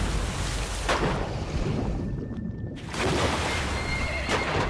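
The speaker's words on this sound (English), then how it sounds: "Oh my god, I can't believe that horse survived." A loud horse whinny rises and fades, followed by a second neigh, over a constant rumbling soundscape of hooves and water in the game Metal Gear Solid V: The Phantom Pain.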